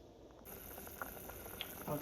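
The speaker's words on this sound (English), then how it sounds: "and allow that for boil again." A pot of water with pigtail boiling on a stove for Jamaican rice and peas, a steady bubbling simmer heard close up, alone throughout.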